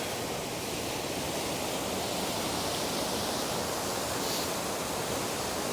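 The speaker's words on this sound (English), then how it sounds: "shoot back up this waterfall with Adrian going at the top" A mountain waterfall on the Isle of Skye roars as a loud, unbroken rush of falling water, steady and close from start to finish with nothing else heard.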